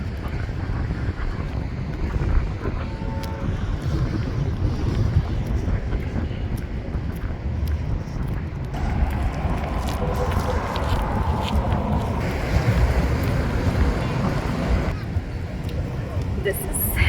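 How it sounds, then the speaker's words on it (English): Strong wind gusts in Hurghada, Egypt, roaring steadily into the microphone as buffeting noise across a dusty street, with faint voices and city sounds underneath. "It's so windy. Feels like just before the storm."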